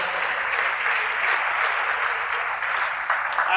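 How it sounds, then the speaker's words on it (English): A conference audience at a youth leadership forum in Abuja gives the panelists a round of applause, a full, even burst of clapping that carries on steadily throughout. "can we give a round of applause to our panelists"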